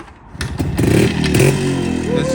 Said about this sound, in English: There's just something about kickstarting an old 2-stroke